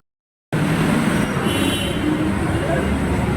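A light rail train rumbles steadily at Monumento LRT station after a brief silence, with a low continuous roar and faint high metallic squeal from the rails.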